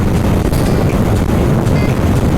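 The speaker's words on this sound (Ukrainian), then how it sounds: "зараз дуже сильний вітер" Heavy wind buffeting a microphone, a constant low roaring rumble that fills the whole clip with no voices.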